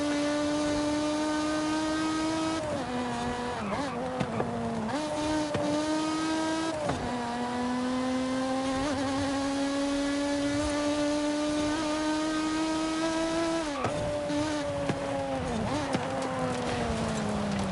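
A supercharged 600-horsepower car engine drones and revs in Forza Horizon 5, a loud sustained whine rising through gears, with several sharp drops and re-climbs as it shifts, and no talking.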